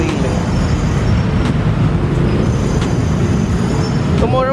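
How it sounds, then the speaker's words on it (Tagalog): A Bangkok Airport Rail Link train rumbles loudly and steadily from inside the carriage, with a dense low roar, occasional rattles and a brief squeal near the end. "this is the ARL, Airport Railway Link."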